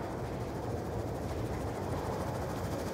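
A stealth chopper helicopter in the video game Black Ops 2 produces a constant, dense engine and rotor drone, steady and moderately loud for the whole stretch with no pauses.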